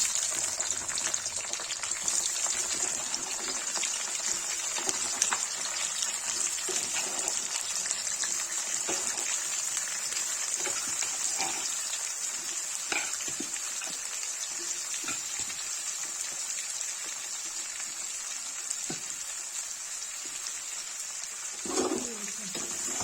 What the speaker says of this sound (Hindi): इसमें प्याज फ्राई करना है